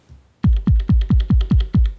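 Techno kick drums from an Elektron Digitone sound pack strike eight times in a steady, evenly spaced pattern, each a loud, punchy low thump with a quick downward pitch sweep and short tail, alone with no talk.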